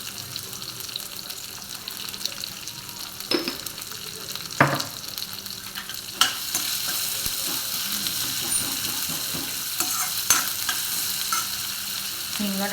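Onions with salt sizzle in a pan for a potato bhaji, a constant frying hiss broken by occasional scraping clinks of a spatula stirring.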